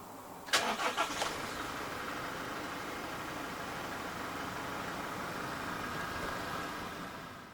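A 2024 Toyota Hiace SLWB van with its 2.8-litre diesel engine cranks briefly and fires, then settles into a steady, even idle that continues close by to the end.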